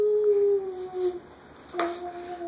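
A young child imitates a dog with a drawn-out, wavering howl-like cry, followed by a short pause and then a second, briefer yelp in the same voice, close and fairly loud in a quiet room.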